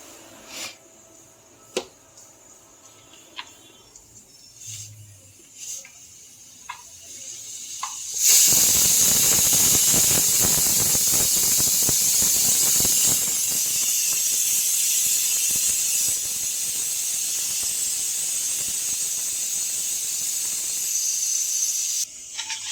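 A pressure cooker of dal for dal dhokli lets out a loud, sustained steam hiss partway through, steady and continuous until near the end, after a few quiet kitchen clinks.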